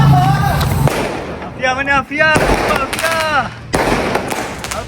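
Firecrackers set off outdoors with sharp scattered pops and crackles between excited children's voices and chatter, the bangs loud and close.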